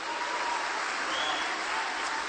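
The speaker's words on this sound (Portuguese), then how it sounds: "Queria que você aplaudisse o Senhor pela vida do pastor Cláudio Duarte" Steady applause from a church congregation honoring a pastor, dense and continuous clapping filling the room at moderate distance, with no pauses.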